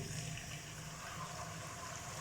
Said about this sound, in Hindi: छान कर अच्छी तरह से डालना है और फिर भी आराम आराम से ही डालेंगे